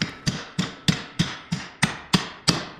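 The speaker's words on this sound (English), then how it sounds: "now I can get a hammer on it." A hammer strikes a mini bike's front fork assembly during disassembly: nine sharp metallic blows at a steady, even rhythm, close and clear, with no talking.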